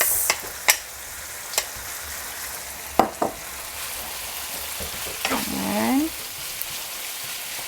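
Kimchi fried rice sautéing in a pan, a soft steady sizzle running under scattered utensil clicks and scrapes, with a brief rising stir sweep near the end and a short spoken word.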